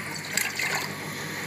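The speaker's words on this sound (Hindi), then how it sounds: "ये 2 कप हम पानी डाल देंगे" Two cups of water are poured into a pot for boiling peeled raw mangoes for chutney, giving a steady, close splashing trickle throughout a short moment with no talking.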